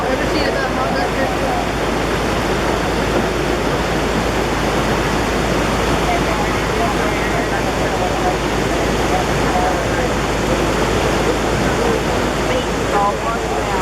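Flash flood water rushing down a mountain stream in the Great Smoky Mountains near Ramsey Cascades, a loud, unbroken roar of churning whitewater filling the whole stretch.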